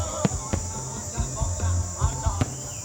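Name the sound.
fireworks exploding at Khmer New Year night celebration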